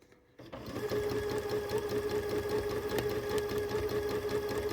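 Sewing machine doing free-motion quilting starts after a short quiet moment, then runs at a steady, fairly slow speed set by the foot control, its needle chattering in an even rapid rhythm close to the listener.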